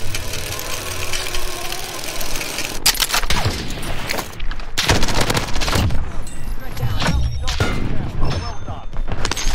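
Loud gunfire in the video game Warzone: bursts of sniper and automatic shots and blasts crackle in dense, repeated volleys while a player talks over the action.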